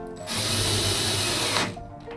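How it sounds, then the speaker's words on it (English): Hand drill power tapping holes while building interior cupboards for an overlander, one sustained loud whine of about a second and a half that then cuts off, up close. "I'm going to power tap using a hand drill without breaking the tap off"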